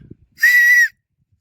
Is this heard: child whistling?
yes